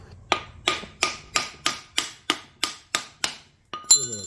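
A hammer strikes a failed truck starter about ten times in an even rhythm, each whack a sharp metallic clank with a short ringing decay, close and loud with no voices.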